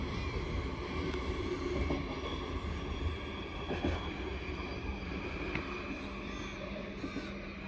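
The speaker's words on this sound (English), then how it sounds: "that train is headed off to Linderfield in the North Shore" Steady rumble of a Sydney Trains train departing St Marys Station, rolling along the tracks with faint metallic squeals and clicks, fairly close and continuous, with no talking.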